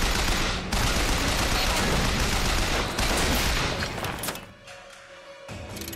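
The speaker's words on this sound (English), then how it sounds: "I'm shooting his rockets out of the air" Heavy gunfire in BioShock as rockets are shot out of the air, a loud dense barrage of shots and thuds that fades toward the end. Faint voice activity may sit beneath it.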